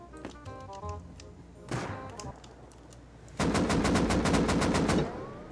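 Rapid automatic gunfire from the video game Rust, a few scattered shots followed by a loud sustained burst of evenly spaced rounds lasting over a second, close and dominant.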